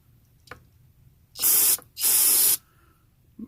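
Two loud bursts of cleaner spraying through a check valve from an early-1930s Coleman 228B lantern, the first short and the second longer, with quiet pauses between and faint clicks before them.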